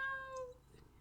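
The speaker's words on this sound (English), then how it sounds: "And I have a cat in my lap." A cat held in someone's lap gives a single close, clear meow lasting about half a second, followed by quiet room tone.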